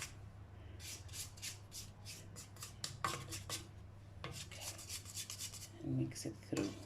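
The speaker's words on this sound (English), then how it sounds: "Just going to take my spatula here and just gather all this together." A spatula scraping and folding cake batter in a bowl, soft repeated rasping strokes with a few duller knocks, close and quiet over a low steady hum.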